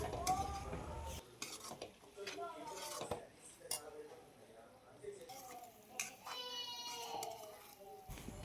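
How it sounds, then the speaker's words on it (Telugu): Chicken pieces being stirred with masala powders in a pan for a dhaba-style chicken fry, with scraping, clinks of a utensil against the pan and a light sizzle, close and moderately loud, without any talking. "ఈ మసాలా అంతా ముక్కలకి పట్టుకునే విధంగా ఒక్కసారి కలుపుకొని పెట్టుకుందాం"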